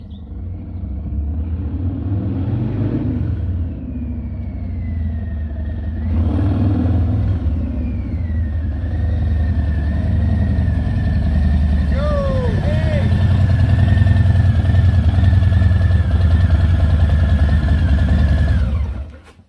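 A 2020 Harley-Davidson Heritage motorcycle rolls up and settles into a loud, deep, lumpy idle close by, its rumble steady for most of the stretch before cutting off at the end.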